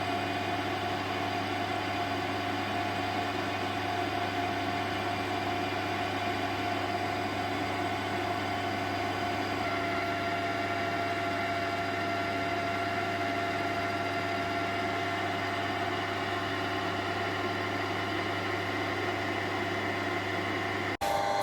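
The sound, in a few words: lathe running, machining a feed screw thread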